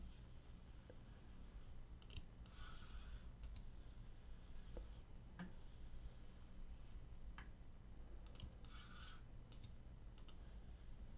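A computer mouse clicks sparsely and irregularly while vector points are placed in design software, each click short and sharp over a quiet steady hiss.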